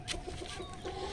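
Laying hens of red-egg and white-egg breeds on a poultry farm cluck continuously and close by, several birds overlapping with no talk.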